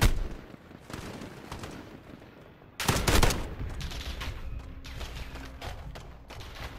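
Gunfire crackles in Call of Duty Modern Warfare as scattered shots and then a louder, dense burst midway, followed by sporadic further firing and no voices.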